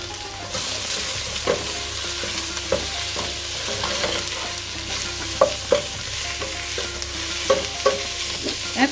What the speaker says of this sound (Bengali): এখন আমি এই পেঁয়াজটাকে নেড়ে ছেড়ে ভেজে একটু নরম বাদামি রং করে নেব।